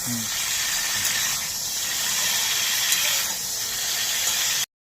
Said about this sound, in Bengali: ফুলকপিটা আমার ভাজা হয়ে গিয়েছে হাফ ভাজা